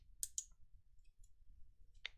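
Two quick, crisp mouse clicks close together on an Excel Aceptar button, followed by a single click about two seconds later, with nothing else heard apart from faint low room hum.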